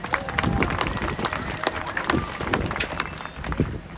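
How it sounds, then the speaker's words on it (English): Audience applause at an outdoor safari parrot show, a steady crowd clapping rising and falling over several seconds, with scattered louder claps and light background noise. "Give yourselves a big round of applause."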